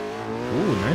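McLaren GT sports car in GTA 5 revving and accelerating, a steady engine drone that climbs into rising, wavering pitch sweeps near the end, loud and close with no talking.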